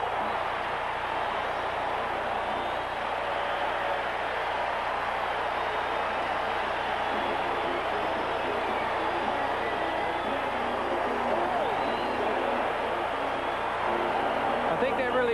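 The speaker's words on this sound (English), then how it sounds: "Listen to the crowd." Crowd noise from a 1980 NFL wildcard playoff game, Oakland Raiders against Houston Oilers: a dense, steady roar of stadium fans that holds without a break, loud and broad, with a slight swell toward the end.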